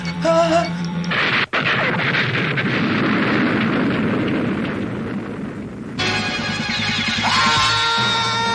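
A huge Omega missile explosion from the Mechander Robo animated series, a loud sustained roar and rumble that fills several seconds, briefly cut, then followed by a brighter harsh burst near the end.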